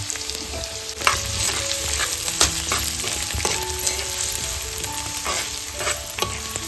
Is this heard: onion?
yes